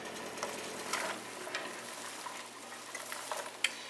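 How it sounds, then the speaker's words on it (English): Onion fries in melted butter in a pan, a soft, steady sizzle with light crackles and a few stirring clicks, fairly quiet and with no talk. "So as my butter is melting over here, I'm going to go ahead and put in this onion"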